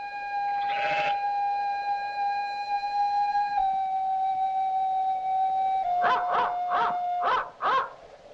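Dog in the film A Matter of Life and Death gives a long, steady howl-like tone, then a quick run of four or five yipping barks, close and fairly loud.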